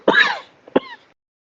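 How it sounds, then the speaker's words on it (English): A single person coughs once and then clears their throat, two short, close, fairly loud bursts with no other sound around them. "can the coughing just be the sound of one of the villagers in the background?"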